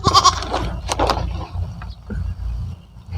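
Goats bleat nearby, a couple of wavering calls early on, followed by quieter rustling and low background rumble.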